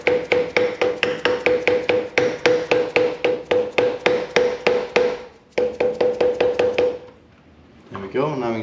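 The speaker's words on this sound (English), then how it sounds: "So with a small dead blow hammer," A small dead blow hammer taps a trailer bearing into place, a fast steady run of sharp metallic knocks that pauses briefly and resumes, then stops before a short burst of speech.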